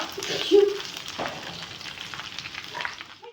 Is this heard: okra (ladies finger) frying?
yes